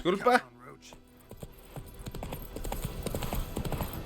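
Roach the horse trotting in The Witcher 3 video game, a steady rhythm of clip-clop hoofbeats that grows more distinct, starting with a short spoken word and a brief whinny.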